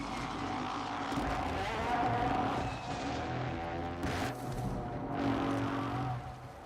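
A car engine drones in a video game, a continuous close roar with shifting pitch and a couple of brief bursts of noise partway through, with no talk over it.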